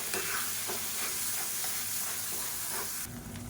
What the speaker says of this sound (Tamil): மீடியமான ஃப்ளேமில் அந்த தக்காளியோட பச்சை வாசனை போகிற அளவுக்கு வதக்கி விட்டுக்கலாம்